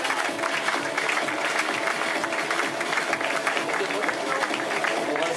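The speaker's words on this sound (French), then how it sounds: "Madame, monsieur, vos applaudissements" A crowd claps at a women's cycling stage podium in Radenac, a steady, dense patter of many hands heard outdoors at moderate loudness, with a voice talking over it.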